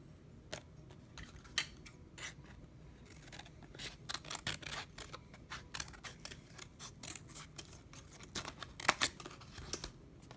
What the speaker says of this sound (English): Now, I want to cut from this side, and I'm going to tape it over here